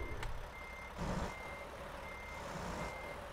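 Mack truck in American Truck Simulator backing up, a steady repeating reverse beep tone sounding over a low engine rumble, moderately quiet and continuous throughout.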